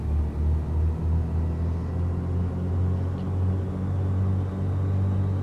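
A steady, low engine drone from a simulated aircraft run up to 2,000 RPM, with the brakes held, in a flight simulator game. The rumble is close and holds even throughout, with no talk.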